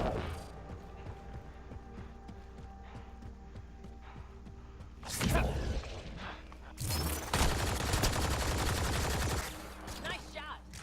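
Gunshots in Mass Effect: Andromeda combat: two loud bursts of rapid fire, the second longer and sustained, over a steady low drone with occasional speech.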